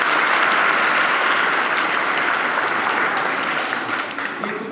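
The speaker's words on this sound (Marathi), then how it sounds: "एक गाठ जर उघडली तरच टाळ्या वाजवायच्या" A group of children claps together in a dense, even burst of applause that sounds loud and close, then tapers slightly toward the end, with faint voices mixed in.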